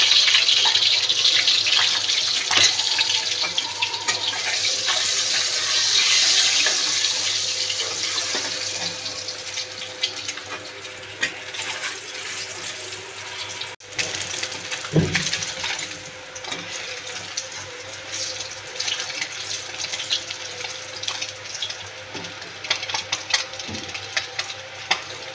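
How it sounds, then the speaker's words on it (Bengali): Eggs frying in a hot kadai, giving a steady bright sizzle that is loudest at first and slowly fades, with a few clinks and knocks of utensil against pan later on. "কড়াটা গরম হয়ে গেছে, ডিমগুলো ভেজে নেব।"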